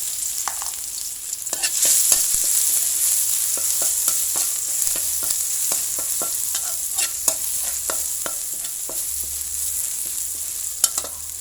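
A steady sizzle of hot oil in a wok, with repeated scraping and tapping strokes as garlic is stir-fried. No one speaks.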